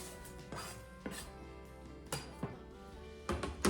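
A knife slices through an onion on a cutting board in a home kitchen, giving a handful of crisp, separate thunks at uneven intervals over quiet background music.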